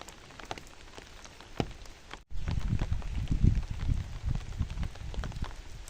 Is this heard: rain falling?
yes